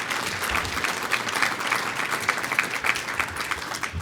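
An audience at a speech event applauds, giving a continuous, even patter of many hands clapping at moderate volume throughout with no break.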